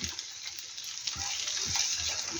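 Tomato frying in a vegetable sauté for Ukrainian soup: a steady, soft hiss of sizzling oil with faint bubbling and a few light stirring knocks, close and continuous, with no voice over it.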